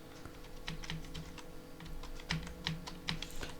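Fingers tapping out an Aadhaar number on a computer keyboard, a steady run of close, crisp key clicks with a few louder presses, under faint background hum and no talk.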